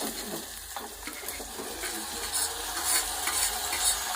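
Chopped tomatoes go into a hot frying pan and get stirred, giving a steady, close sizzle and hiss with soft scraping and wet stirring sounds that continue without a break.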